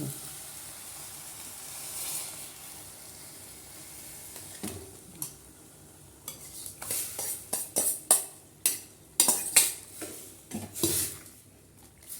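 Half-boiled goat lung pieces hit a hot pan and sizzle steadily, with a string of clanks from a metal spoon or spatula stirring against the pan, close up and with no talk.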